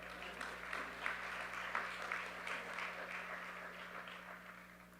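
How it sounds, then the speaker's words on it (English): Audience applause at a Lassiter High School class of 2020 graduation ceremony, with steady clapping from a crowd filling the hall, moderately distant and continuous for several seconds. "Y'all can clap for Perry."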